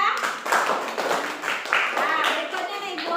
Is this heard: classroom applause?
yes